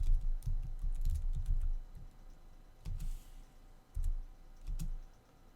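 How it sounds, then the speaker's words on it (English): Fingers type on a computer keyboard while a Java formula is entered, quick clusters of close, crisp key clicks with brief pauses between bursts and no speech. "now it's a matter of typing in this formula here"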